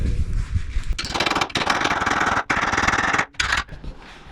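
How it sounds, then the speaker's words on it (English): A chisel hammers loudly against a rusted vehicle frame in several dense bursts of rapid impacts, separated by short pauses. It is close and harsh, with no speech. "Alright, I'm gonna try a chisel now."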